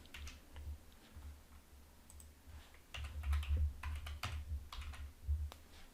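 Computer keyboard typing a command in AutoCAD software: irregular clusters of light key clicks, sparse at first and then a denser run of taps, heard close with no talking.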